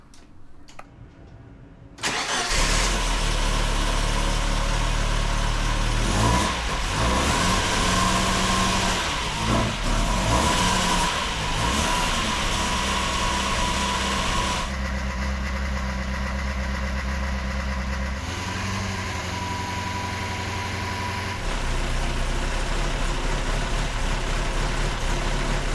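A 1972 Saab Sonett III cranks briefly, fires up after about two seconds and settles into a loud, steady idle with a deep throb, its pitch shifting slightly as it keeps running.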